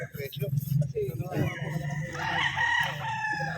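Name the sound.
gamefarm stag rooster crowing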